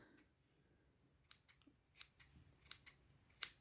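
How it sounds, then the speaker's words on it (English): Scissors snip close at a yarn pompom during trimming: a handful of short, crisp cuts, sparse at first and then coming quicker near the end, with the last snip the loudest, in a quiet room with no talking. "Cut that off. And just trim it as tight as you want."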